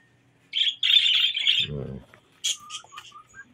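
Pet birds chirp and tweet in a morning setting, a bright sustained burst of calls followed by a low squawk and scattered shorter chirps, fairly close and moderately loud with no talk.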